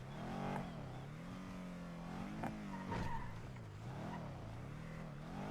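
A car in a GTA game drives past and skids, its engine droning and rising and falling in pitch with a brief tire scrub, heard faintly in the background without talk.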